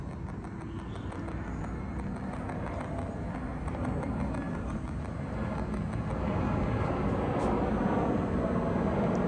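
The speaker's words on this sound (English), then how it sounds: "You can hear a plane going over." A low, broad roar of an airplane passes overhead near an airport in Marrakech, swelling slightly louder toward the end, distant and steady with no voices.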